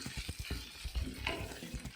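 Sliced onions hit hot oil in a pan while cooking a spicy okra stir-fry, giving an irregular crackling sizzle with soft stirring knocks, fairly quiet and close.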